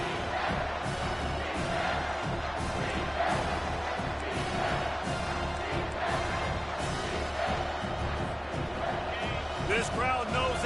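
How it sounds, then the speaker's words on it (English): A stadium crowd in the college football video game NCAA 25 roars continuously in a big moment, with rhythmic thumping and chanting swells. A commentator's voice runs over the noise. "This crowd knows they have to bring it in big moments, and one of those has arrived"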